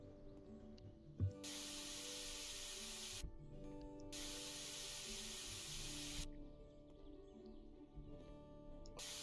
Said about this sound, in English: So I now have my magic hose back.